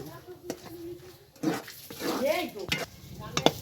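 Ginger being stirred with sugarcane jaggery in a cooking pan: irregular scraping and sticky stirring strokes, close and moderately loud, with some vocal sound mixed in.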